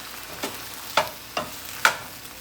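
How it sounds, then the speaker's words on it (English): Light sizzling in a pan as a little water is added to frying food, with several short bursts of crackle, close and fairly quiet, no voices. "I'm gonna just add a little bit of water in there because it's just frying"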